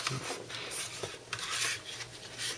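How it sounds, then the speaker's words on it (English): Screws are driven by hand into an Icy Dock MB559U3S-1S ultra-slim USB3 and eSATA hard-drive enclosure, giving a close, quiet series of short scraping and rasping turns with small metallic ticks. "just to save time in this demo, I'm only going to screw two screws"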